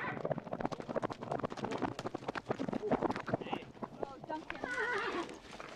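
A horse whinnies with a wavering, rising call as hooves clatter rapidly and unevenly, mixed with outdoor noise and voices.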